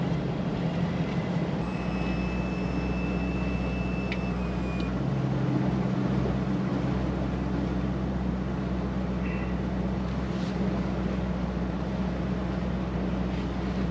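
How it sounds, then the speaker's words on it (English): A 200 horsepower V8 Pro XS outboard boat engine runs steadily with a low, continuous rumbling drone, with a faint high whine briefly riding over it early on. "running the 200 horsepower V8 Pro XS, and it just has such a nasty growl off the backside."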